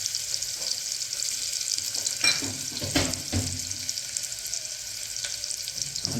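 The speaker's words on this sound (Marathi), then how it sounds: "फोडणीसाठी तेल चांगलं कडलं आहे आणि त्यामध्ये आपण आता कांदा घालून घ्यायचा आहे चिरलेला बारीक" Finely chopped onion sizzles steadily in hot oil for a mutton pickle, a continuous loud frying hiss with a few sharp crackles and bursts as the pieces hit the pan, no voices.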